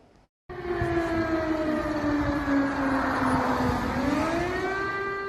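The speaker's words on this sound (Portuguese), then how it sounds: "A cidade de Kiev acordou hoje ao som de sirenes." An air raid siren wails over Kyiv, a loud sustained civil defense tone that slowly falls and then rises again, sounding from a distance across the city with no talk.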